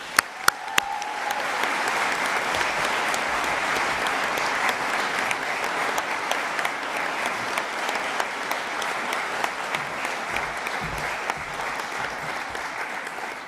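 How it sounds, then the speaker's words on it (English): A graduation ceremony audience at West Lothian College gives sustained, loud applause for a guest, dense and even throughout with a few sharp louder claps at the start, no speech over it. "can we give him a huge round of applause?"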